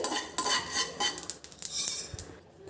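Spices for coriander-leaf chutney are roasted over a medium flame, stirred and scraped around a dry pan, with metal utensil clinks and scrapes in an irregular rhythm, close up and fairly quiet.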